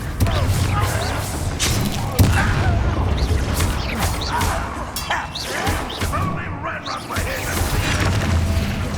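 Hogwarts Legacy combat with a Confringo fire spell bursting, heavy booms, crashes and whooshing impacts layered over one another in a busy fight, with voices talking amid the clash.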